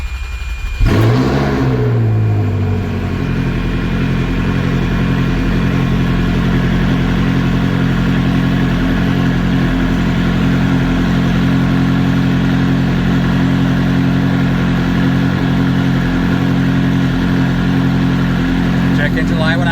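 A Ferrari 360 cranks briefly and fires up, then settles into a steady, loud, close engine idle that holds evenly to the end.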